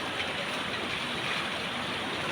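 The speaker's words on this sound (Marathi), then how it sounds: "आताच पाऊस नव्हता आणि 5 मिनिटात यायला लागला" Steady, dense hiss of heavy rain falling with water running, constant and loud throughout without pause.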